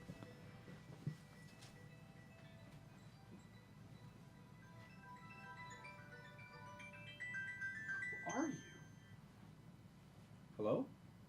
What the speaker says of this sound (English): I don't know why my phone's ringing.